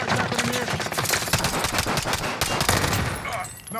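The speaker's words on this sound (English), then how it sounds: "Was a shot." Rapid bursts of automatic gunfire from Call of Duty Warzone, an EM2 rifle loadout, crackle in dense repeated volleys almost continuously, loud and close, with faint speech mixed in.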